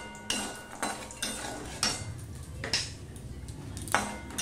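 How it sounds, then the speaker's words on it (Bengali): Urad dal bori dumplings fry in oil in a pan, with a faint sizzle beneath repeated clinks and scrapes of a metal spoon stirring them, heard close up. "এবার বড়িগুলো আমি ভেজে নেব"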